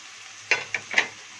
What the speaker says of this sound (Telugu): ఇప్పుడు మసాలా ముద్ద వేస్తున్నానండి నేను